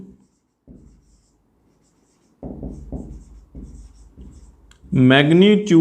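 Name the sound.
writing on a board during a physics lecture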